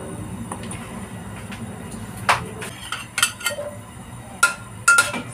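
A large cooking pan (kawali) and a ladle (sandok) clink and clank in scattered metallic knocks while oil is added, over a low kitchen hum.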